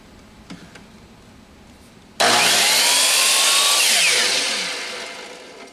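Power tool biting into a piece of wood to trim a smooth edge, starting abruptly after a few light knocks, then a loud, sustained whine that gradually eases off near the end.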